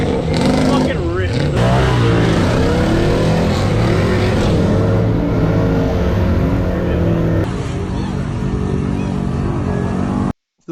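An off-road truck stuck in a mud hole, back end dug in after entering in two-wheel drive, its engine roaring and revving hard and close for about ten seconds, with people talking over it, at a Memorial Day weekend mud party.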